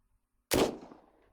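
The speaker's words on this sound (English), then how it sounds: "that's a gunshot when when Tina shoots the boss" A single sharp video game gunshot bursts out of silence, loud and close, then trails off in a decaying echo.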